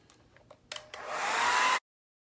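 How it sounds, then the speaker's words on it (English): A few soft clicks and taps, then a hair dryer switches on and blows with a loud, steady whoosh before cutting off abruptly. "I'm going to take a blow dryer and just, you know, set them."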